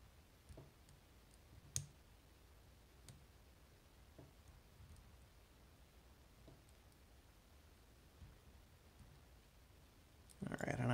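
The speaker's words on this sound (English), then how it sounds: "A couple of clicks there." Sparse, faint metallic clicks come from an Assa Twin Exclusive (Baltic Twin 5700) lock being picked, with a few sharper ticks over a quiet background and a louder handling noise at the very end.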